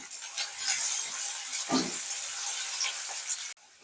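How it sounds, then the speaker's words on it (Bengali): Chopped onions fry in hot oil in a pan, giving a steady, close sizzle with a brief stirring scrape partway through before it cuts off. "এবার দেখো পেঁয়াজ আর এদিকে টমেটো ভেজে নেবো তেলে।"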